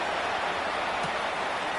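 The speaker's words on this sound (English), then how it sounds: "rain continues to fall" Rain falling steadily over an outdoor Tennessee Titans football game in Nashville, an even hiss of rain noise throughout the short stretch.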